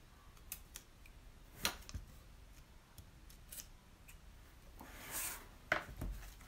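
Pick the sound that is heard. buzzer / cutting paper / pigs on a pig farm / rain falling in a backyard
cutting paper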